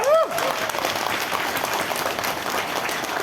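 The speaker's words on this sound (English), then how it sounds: "Let's give a round of applause." A round of applause at an NPP party meeting held for an election. Dense, steady clapping from a gathered crowd fills the whole stretch, with faint voices mixed in.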